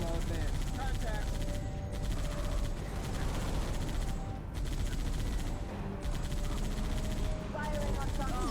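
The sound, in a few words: gunfire in the video game Halo Reach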